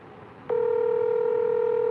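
A telephone tone starts abruptly during a call and holds steady, a loud continuous dial or ring tone after a brief quiet lead-in.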